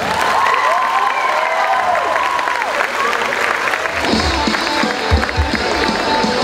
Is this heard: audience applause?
yes